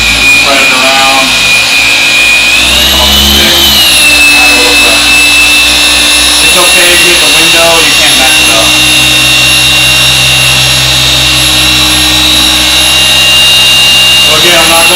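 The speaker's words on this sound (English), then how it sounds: "I'm taking my time, let the polisher do the work." A paint polisher buffs the paintwork of a BMW F80 M3, a steady loud whine with a high tone that rises briefly early on, running continuously throughout with faint talk underneath.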